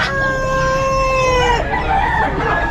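A silver bantam chicken at a pet market gives a loud, close, drawn-out call with strong tonal harmonics, then short rough clucks, with market bustle behind it.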